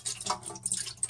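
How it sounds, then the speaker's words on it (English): Liquid crab paste pours into a pot in a short burst of splashy, dripping, trickling sounds, close up and unaccompanied. "in a pot, I'm gonna pour the crab paste, the liquid."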